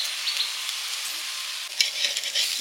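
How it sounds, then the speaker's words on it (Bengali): Thick lentil fritters fry in hot oil with a steady, close sizzle and crackle that keeps going throughout, with no talking over it. "মোটা মোটা বড়া ভাজা হচ্ছে, ডালের বড়া"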